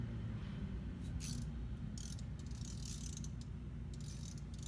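A 14 mm wrench ratchets on a front strut bolt of a 2008 Ford Escape, making a few faint, quick clicking bursts over a steady low mechanical drone.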